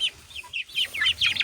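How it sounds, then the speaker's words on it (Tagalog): Dong Tao roosters on a farm cluck and call in quick, bright bursts, several short squawks in rapid succession, close and fairly loud. "Lahat ito roosters."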